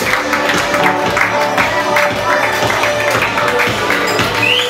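Audience applause at a fashion show, a dense sustained clapping from a crowd with music playing underneath throughout.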